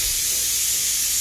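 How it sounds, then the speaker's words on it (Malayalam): A test drop of batter for banana fritters hits hot frying oil in a small cooking pan, giving a steady, close hiss that holds for about a second with no talking. "എണ്ണ തിളച്ച് എന്ന് നോക്കാൻ വേണ്ടി മാത്രം ഒരു ഡ്രോപ്പ് ഇട്ട് കഴിഞ്ഞിരിക്കുന്നു"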